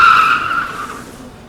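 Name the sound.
comedian imitating car brakes skidding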